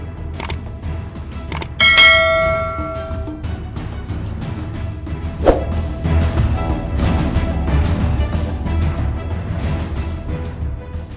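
A bright ringing chime sounds near the start, followed by a lighter tinkling accent midway, over a quiet low background.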